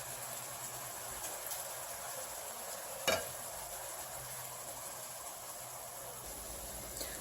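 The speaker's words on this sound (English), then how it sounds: "I'm going to let those simmer in that onion juice" Onions simmering in their own juice in a pan, a quiet steady hissing sizzle with one sharp clink partway through, no voices.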